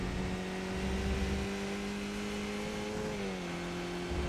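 A race car engine in the iRacing video game at Donington, a steady sustained drone holding a fairly constant pitch before a slight dip, loud and close with no talking.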